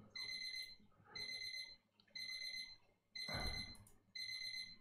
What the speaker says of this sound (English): that's my check the jam that's not burning timer going off